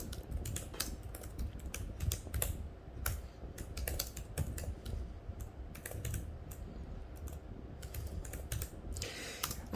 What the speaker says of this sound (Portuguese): Eu vou digitar aqui para a gente poder ver com detalhe